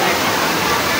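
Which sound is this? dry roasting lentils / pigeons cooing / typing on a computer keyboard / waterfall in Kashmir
waterfall in Kashmir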